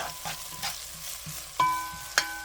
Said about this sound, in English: I'm going to go ahead and add in all of the garlic and get that sauteed around.